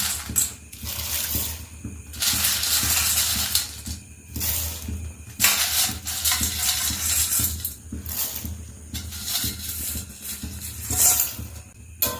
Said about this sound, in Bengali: জলটা আগেই গরম করতে বসিয়ে দিয়েছি এবার এর মধ্যে পাস্তাগুলো আমি দিয়ে দিচ্ছি